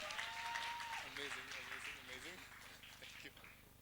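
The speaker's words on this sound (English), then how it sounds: "I think they deserve a bigger round of applause." Applause and cheering from a concert audience at a Bollywood music event, sustained and crowd-wide, mixed with loud stage sound and an amplified voice over it.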